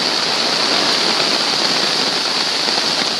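Floodwater rushes through a backyard garden up against a house, a loud, constant roaring wash like a torrent, steady throughout with no voices.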